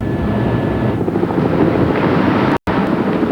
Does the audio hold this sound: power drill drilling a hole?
no